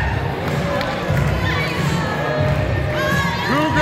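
A loud crowd cheers at a PPW PowerSlamTV professional wrestling show, with a constant roar of voices, shouts and whistles, occasional thuds, and rising yells near the end.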